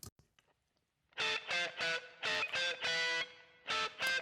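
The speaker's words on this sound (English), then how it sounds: "we have opposite side reverb, where we have the dry signal all the way to the left" A short melodic phrase of bright, sustained tones in separate bursts, with a smeared reverberant wash trailing behind the notes; the dry mono signal is panned hard left and the reverb sits on the opposite side.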